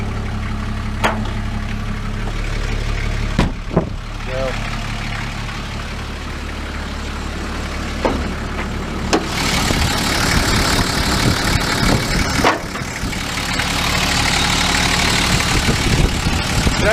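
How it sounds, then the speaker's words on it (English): Diesel Toyota Land Cruiser HJ60 engine with glow plugs, idling steadily at close range for the whole stretch, with a few sharp clunks and a rougher, louder patch partway through, and no talk. "I'll fire it up here so you can hear it run"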